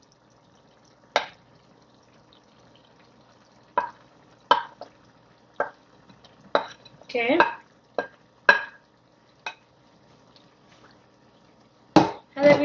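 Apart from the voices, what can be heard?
chicken stirred into sizzling tikka masala gravy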